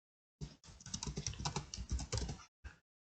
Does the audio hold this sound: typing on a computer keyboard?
yes